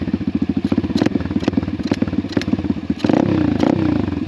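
Pit bike engine revved by throttle blips, a close, choppy idle stutter that rises into a louder, rougher rev near the end, with rattly mechanical clatter and no voices.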